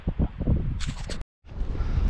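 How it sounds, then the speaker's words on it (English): Wind gusts buffeting the microphone in low rumbling bursts near Ice Lakes while backpacking, with a rustling hiss, a brief silent gap, then steady blustery noise again. "It is windy though, but we vibe."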